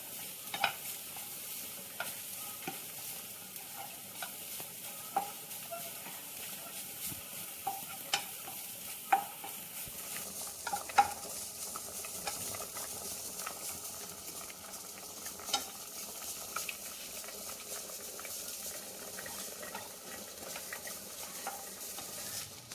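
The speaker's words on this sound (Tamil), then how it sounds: "வதக்கிறது மட்டும் நல்லா பச்சை வாசம் போகிறதுக்கு வதக்கிடணும்." Grated carrot sautéed in a pan for carrot payasam, with soft, steady stirring and a low sizzle, punctuated by light scrapes and taps of a spoon against the pan, fairly quiet and close, no talking.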